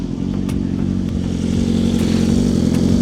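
A BMW S1000RR motorcycle engine idles and revs nearby at a cars and coffee meet, a steady loud mechanical drone that swells slightly, with no talk.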